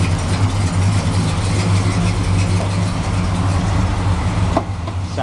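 A 1965 Plymouth Sport Fury convertible pace car with a 383 V8 idles close by, its exhaust giving a steady, loud, deep rumble that holds evenly throughout with no voices.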